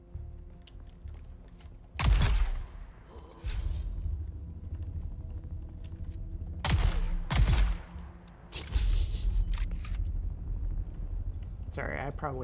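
Gunfire in the video game Dune Awakening: a few loud sharp bursts of shots with rumbling tails, separated by stretches of lower ambient game sound.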